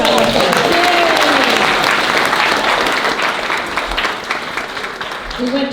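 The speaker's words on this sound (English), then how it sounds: "Give them a round of applause." An audience at a community event celebrating Portuguese heritage in San Diego breaks into a round of applause, a loud, continuous spatter of hand claps that fills the room and tapers slightly toward the end, with a voice speaking over it.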